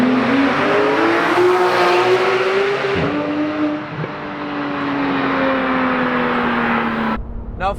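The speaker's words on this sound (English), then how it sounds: "lovely noise. The engine is just so smooth." Porsche 911 GT3 of the 991 generation revving its high-rpm engine, a loud, smooth rising howl that climbs steadily, drops sharply near the three-second mark, then sustains before cutting off abruptly at the end.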